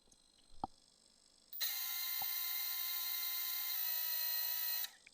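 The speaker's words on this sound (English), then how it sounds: "I'm also looking to make sure that the correct motor is spinning" A small drone motor spins up under ESC and flight controller control on a bench test, a steady high-pitched whine that starts abruptly, holds evenly for about three seconds, then cuts off, after a few faint clicks.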